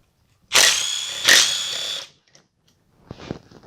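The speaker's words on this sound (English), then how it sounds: "I'm going to remove these motor mounts. These are 14mm bolts. I'm just going to break them free really quick." A power tool breaks loose 14mm motor mount bolts during a Yamaha Banshee bottom-end teardown: two loud, close whirring bursts, followed by a quieter mechanical rattle.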